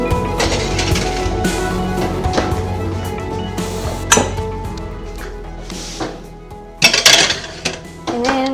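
A tray of homemade dog biscuits slides into an oven set to 150 degrees, with metallic clanks and clinks of the pan and oven rack. The loudest clatter comes near the end. No one speaks.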